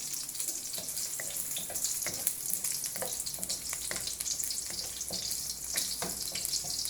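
Garlic sautéing in a pan for a home-cooked dinner, a steady bright sizzle with small crackles and pops running evenly throughout at moderate volume, close by with no voices over it.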